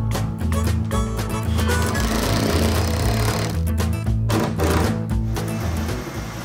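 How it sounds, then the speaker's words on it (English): A power drill bores a hole through the metal front bracket of a van during a camper van build, with a loud, steady, rattling whine and brief uneven bursts as the bit bites. "I'm gonna drill another hole in the front bracket and put a stud with the nut on"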